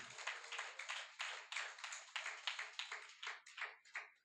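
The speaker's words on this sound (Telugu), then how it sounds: "గట్టిగా చప్పట్లు కొట్టి దేవుని మహిమపడదాం నాన్న" A church congregation at a revival meeting claps loudly together, a steady, rapid rhythm of sharp hand claps that continues unbroken and close.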